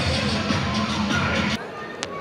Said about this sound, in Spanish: Fuerte el aplauso, dice la gente